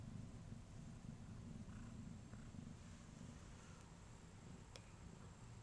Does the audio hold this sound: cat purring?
yes